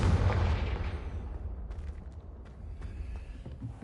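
A Confringo blasting spell in Hogwarts Legacy goes off with a booming explosive burst at the start, then a rumbling decay with faint crackling debris and scattered small pops trailing off, with no talking.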